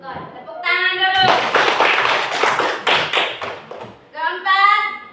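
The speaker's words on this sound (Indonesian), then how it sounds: "Tepuk tangan dulu." Children in a classroom break into a burst of hand clapping lasting about three seconds, many quick overlapping claps, with a voice speaking just before and after.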